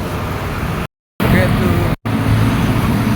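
Steady roadway noise from cars on a busy city street runs throughout, broken by two short dropouts, with a voice talking over the traffic.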